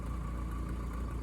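A Case 580E backhoe's diesel engine runs steadily at a low, even rumble with a faint knocking pulse, close and constant for a brief moment.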